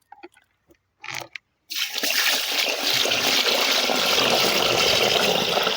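Ration raw rice is washed in water: a few faint clinks and rustles open, then continuous sloshing and splashing takes over and runs steadily to the end, close and fairly loud.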